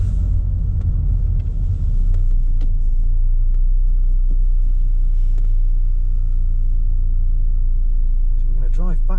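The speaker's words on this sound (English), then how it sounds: "we're going to drive back through town" A car's low, steady engine and road rumble while driving through a town in England, heard from inside the cabin, loud and constant with little change.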